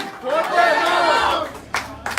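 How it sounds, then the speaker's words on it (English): A crowd at an anniversary celebration and office launch applauds and cheers a new member, with voices calling out over the clapping before it thins into a few scattered claps. "Big round of applause for our newest member, Tyrone Hernandez."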